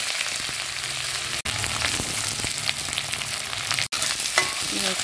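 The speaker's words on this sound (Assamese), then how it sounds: "এয়া ফুটিছে দেই তেল" Whole cumin, cloves, cardamom, cinnamon and bay leaves sizzle loudly in hot oil in a kadai, a dense, continuous frying hiss with faint stirring clicks, close to the pan.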